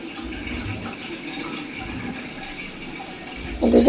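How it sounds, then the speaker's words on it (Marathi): Water runs steadily into a bathroom storage tank at home, a continuous rushing, splashing flow that swells a little louder right at the end, with no one talking. "आता तर आता बाथरूमची पण टाकी भरत आली आहे."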